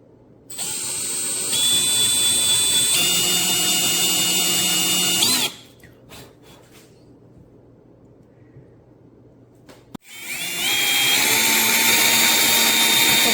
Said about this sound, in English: I'm gonna take my little drill and try to drill me some pilot holes to get it out of there